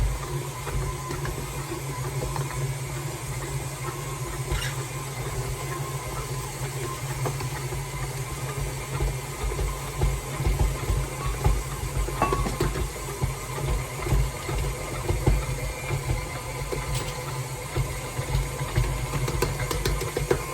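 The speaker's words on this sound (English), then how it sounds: "you know you're getting close when your KitchenAid starts dancing." A KitchenAid stand mixer kneads thick pizza dough with a steady motor drone and a low, rhythmic thumping that grows stronger as the machine rocks on the counter.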